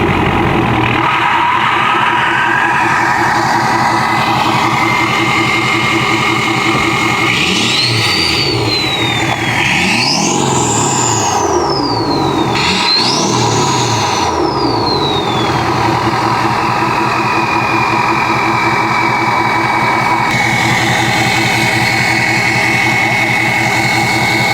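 A Ford 6.7L Powerstroke diesel truck fitted with a pusher intake idles loudly up close, then revs three times. A rising and falling turbo whistle rides over the engine's steady rumble before it settles back to a high idle.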